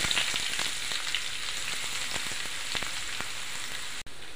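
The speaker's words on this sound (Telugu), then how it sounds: "ఆయిల్ హీట్ అయ్యింది, ఆనియన్స్ యాడ్ చేసుకుందాం।" Onions frying in hot oil in a pan for Hyderabad-style haleem, a steady dense sizzle with crackling pops throughout, close and continuous with no talk.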